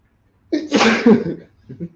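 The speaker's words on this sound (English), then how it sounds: "I was gonna sneeze." A single loud, close sneeze with a sharp intake and explosive burst, followed by a brief faint sound afterward.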